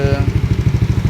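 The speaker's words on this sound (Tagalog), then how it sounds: "At ngayon, mandar na yung motor niya. Yan. Ang ganda na ng kanyang RPM" A Yamaha Aerox V1 scooter engine, recently repaired after misfiring and stalling, runs loud and close with a fast, even pulsing rhythm throughout the short burst.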